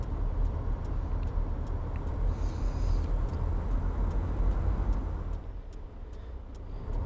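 Roman Diesel truck engine in Euro Truck Simulator 2 pulling hard uphill: a steady, loud low-pitched rumble with a faint ticking above it, easing slightly toward the end.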